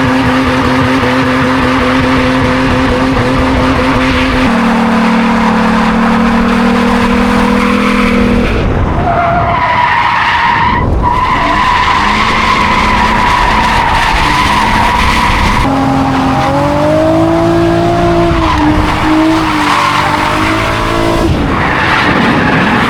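A car drifting on a race track during a first track drifting outing: engine revving hard and shifting pitch while tires squeal continuously, loud and close, with no talking.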